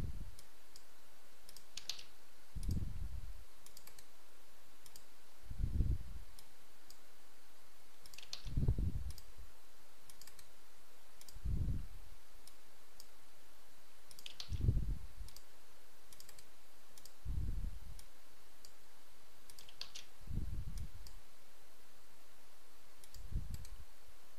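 A computer mouse clicks as someone works through a web-design program, giving single soft clicks and thumps every few seconds, close and quiet, against a faint background hiss.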